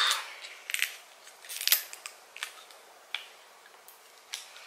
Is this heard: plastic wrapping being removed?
yes